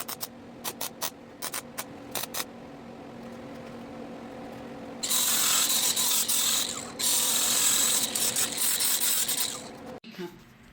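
A park brake lever on a rideable remote-control go-kart clicks in a quick run of sharp ratchet ticks, followed by a long, loud, hissing mechanical noise that stops and then resumes, all close up.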